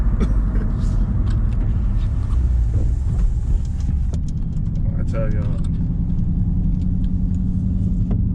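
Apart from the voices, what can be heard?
car engine exhaust with muffler deleted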